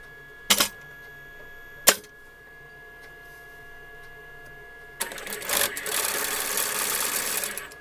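A sewing machine stitches a fabric strip, starting with two short sharp clicks and then a loud, continuous rapid mechanical whir with no talk.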